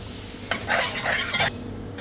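Tagliatelle pasta being stirred into ragù meat sauce in a pan gives a short run of wet clinking and scraping strokes lasting about a second, close and moderately loud, with no talk.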